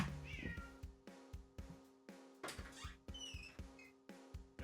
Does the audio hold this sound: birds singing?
no